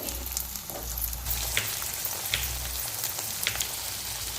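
A corn and capsicum masala sizzles and fries steadily in a pan with a dense, close crackle, joined by occasional soft stirring scrapes.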